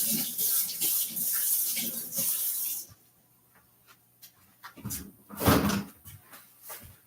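Running tap water at a sink rinses a burning arm during a soap-making session, a steady rush for about three seconds that shuts off, followed by quiet scattered clinks and knocks.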